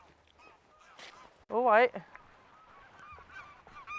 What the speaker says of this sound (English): They're geese.